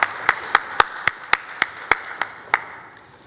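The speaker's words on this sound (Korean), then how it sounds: "하나님께 영광의 박수 올려드리겠습니다." Church congregation clapping in unison for God during a worship service: a close, loud run of about eleven sharp, evenly spaced claps in a steady rhythm, with no talk.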